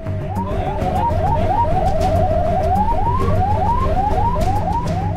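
A fire truck siren wails in rapid repeating rising sweeps over heavy engine rumble, loud and close, with no voices.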